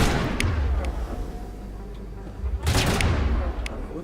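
Gunfire from a firefight in the video game Mass Effect: a few sharp shots early, then a quieter stretch, then a louder cluster of shots near the end, with a voice talking over the action.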